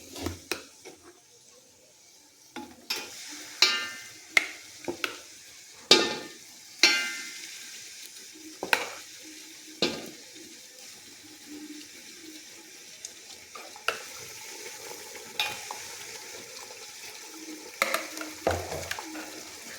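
Roasted masala fries in a hot tempering and is stirred, with sharp scraping clatters of a spoon in the pan over a soft, watery sizzle that rises and fades.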